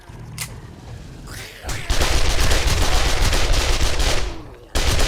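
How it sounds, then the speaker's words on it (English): SMG gunfire in the survival video game 7 Days To Die: a few sharp shots, then a loud sustained burst of rapid fire lasting about three seconds. "I actually should pull out the SMG for once"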